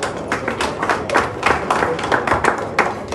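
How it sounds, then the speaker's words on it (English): Dinner ceremony guests give a round of applause for a politician, steady close clapping with some louder individual claps standing out across the whole stretch, no talking over it. "I want us to give a round of applause for him."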